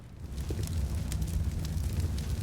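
An incendiary grenade burns in Counter-Strike on the Mirage map, giving a steady, broad roaring crackle like wind-blown fire that holds at an even level throughout, with no voices over it.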